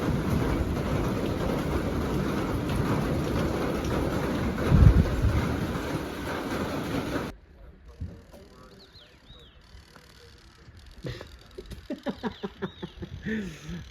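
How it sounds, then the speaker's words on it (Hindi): Heavy rain roars steadily for several seconds in Jibhi, then cuts off, leaving quieter sounds and a voice speaking nearby. "बारिश देख रहे हैं आप, इतनी तेज़ बारिश है"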